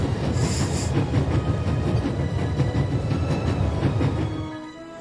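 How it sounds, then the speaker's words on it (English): Train rolling on rails in the video game The Raven, a loud steady rumble with rhythmic clickety-clack from the wheels and a faint squeal, fading out near the end. "There's nothing quite like traveling on a train."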